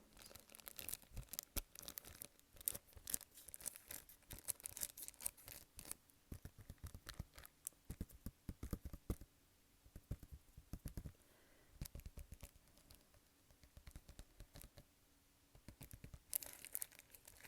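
Packaging from an unboxing of a monthly book subscription box is crinkled and torn close to the mic, in dense bursts of crackling and rustling that run almost continuously, with no talking.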